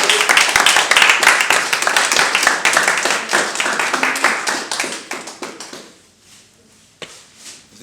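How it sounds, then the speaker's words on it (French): Audience applause after a French rap battle, loud, dense clapping from a crowd that rises quickly, holds for several seconds, then fades out, leaving a few last scattered claps. "donc un maximum d'applaudissements."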